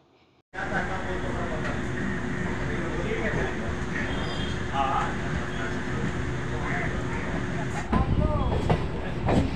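A local train pulls out of Bandel station in West Bengal, its steady rumbling roar and rhythmic wheel clatter heard from inside the carriage after a brief quiet start, with voices audible beneath the rolling noise.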